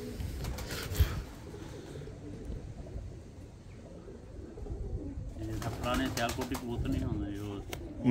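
Breeder pigeons, including a pearl-eyed bird, coo in low throaty bursts in a Bradford, UK loft while someone talks over them nearby and other voices join toward the end.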